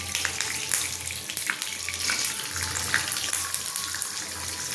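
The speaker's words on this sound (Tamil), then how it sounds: "முந்திரி பருப்பு திராட்சை நம்ம வறுத்துடலாங்க" Cashew nuts and raisins frying in a kadai, giving a steady loud sizzle with crackling pops throughout and no talking.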